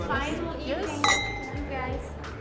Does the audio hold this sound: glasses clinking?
yes